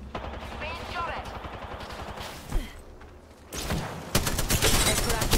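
Gunfire in the Apex Legends battle royale game, with rapid bursts of shots that grow into a loud, dense volley near the end, alongside other game noise.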